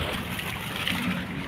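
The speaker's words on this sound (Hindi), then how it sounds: "मोटर चल रहा है यहाँ पर।" A water pump motor running in a wheat field, with water gushing out in a steady, close, noisy rush over a short stretch.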